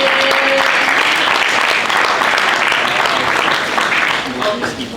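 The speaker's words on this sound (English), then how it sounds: "Let's give him a round of applause, ladies and gentlemen." An audience at a cybersecurity summit applauds a speaker, a dense, steady round of clapping that holds strong before tapering slightly at the end.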